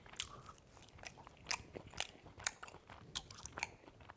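Someone eats veal osso buco with bone marrow, making close, wet mouth smacking and chewing sounds in irregular crunchy bursts about every half second, with no speech.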